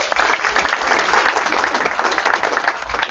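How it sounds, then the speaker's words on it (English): A community membership meeting audience gives a dense, steady round of applause, loud and close, with no break across the short stretch. "let's give her one more round of applause"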